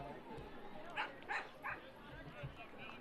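Dog barking at a youth baseball game, a 14U championship: three quick yips in a row, faint and distant, under a commentator talking over the field.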